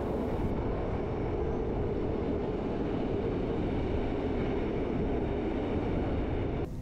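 Steady rumbling clatter of the Bernina Express train in motion, heard from inside the carriage behind the driver, a continuous loud roar of wheels on rails with no voices.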